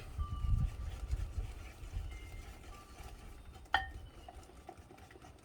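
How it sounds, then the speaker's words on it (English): Thick pecan pie filling is stirred in a bowl, heard as a soft, low scraping and churning close by, with one bright clink of the utensil against the bowl partway through. "You want to stir it in because it is good and thick"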